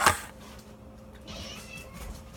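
A house cat gives one sharp, close meow at the start, followed by quiet room sounds with faint soft movements.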